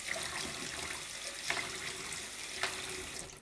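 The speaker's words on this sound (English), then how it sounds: "give them a good rinse" Dyed Target K Flex dart flights are rinsed under a running tap, a steady close rush of water into a sink with a couple of brief splashy surges.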